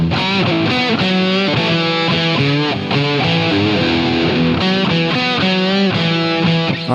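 An electric guitar with distortion chugs through a riff, loud and dense with rhythmic palm-muted stabs and ringing notes, played alone with no voices.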